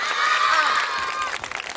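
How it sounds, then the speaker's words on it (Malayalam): Applause and cheering from a school annual day audience for the parents, a brief loud crowd roar with clapping that starts to thin out toward the end. "പിന്നെ ഇങ്ങനത്തെ ആർട്സിനൊക്കെ വിടുന്ന പാരന്റ്സിന് വേണ്ടി നല്ലൊരു കൈയടി"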